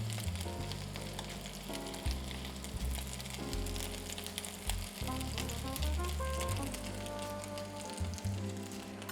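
Swedish meatballs fry in butter with onions in a pan, giving a steady soft sizzle with faint pops, and occasional clunks as they are gently turned.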